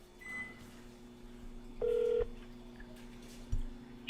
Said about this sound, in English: I'm on hold for maybe an hour before someone can get to the phone with me.